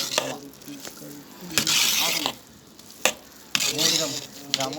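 Biryani being stirred in a pot over heat until the water dries off, with sizzling and scraping bursts of the spoon against the pot recurring in uneven strokes, close and fairly loud, with a voice briefly present.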